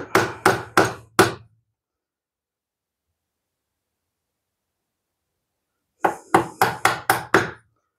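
A homemade hickory mallet strikes wood in two bursts, four sharp, ringing blows close up, a long silence, then six more in quick even succession while a desk drawer is assembled.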